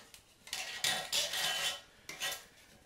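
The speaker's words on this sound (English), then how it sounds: "pull off the rest of that caulking that's around the bottom here. Probably use our razor knife to break that loose." Razor knife scraping old caulking loose along the bottom edge for a laminate floor install, several harsh gritty scrapes in bursts, close and fairly loud with no talking.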